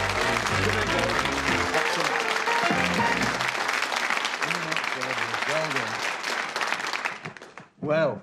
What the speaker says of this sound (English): Give them a nice wet round of applause.